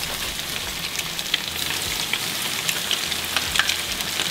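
Whole panfish drop into very hot frying grease, giving a steady, close sizzle with dense crackling pops that runs on without pause and with no voices.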